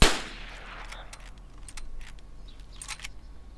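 A single rifle gunshot in the survival game DayZ rings out sharply at the start and fades quickly, followed by faint, scattered metallic clicks and rattles of chambering.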